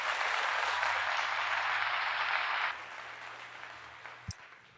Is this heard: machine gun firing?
no